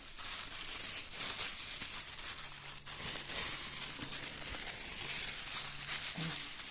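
A clear plastic bag crinkles and rustles steadily as it is fitted over freshly planted clematis cuttings, a close, continuous crackling with no voice over it.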